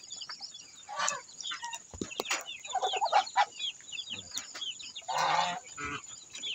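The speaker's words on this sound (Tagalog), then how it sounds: "Yan yung ating Rhode Island Red 17 pieces." A flock of 17 Rhode Island Red chickens in a small backyard pen clucks and squawks nearby, with repeated bursts of busy, overlapping calls and a few louder squawks.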